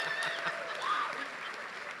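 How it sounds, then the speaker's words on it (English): A crowd at a film cast event applauds actor John Douglas Thompson, brisk, lively clapping mixed with whoops and a few bright whistles rising over it. "And the handsome Mr. John Douglas Thompson. Give him a round of applause,"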